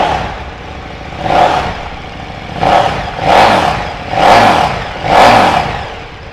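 2017 KTM 1290 Super Duke R engine blipped five times toward about 3,500–4,000 RPM, each rev rising and falling in even succession over a close, steady idle.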